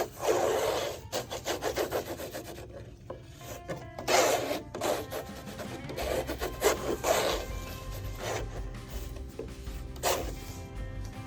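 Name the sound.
brushing lead white oil ground onto linen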